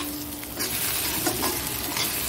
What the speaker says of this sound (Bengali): দেখো ডিমটা একদম ঝুড়ো ঝুড়ো করে দিয়েছি, একদম মিশে যাবে চাউমিনের সাথে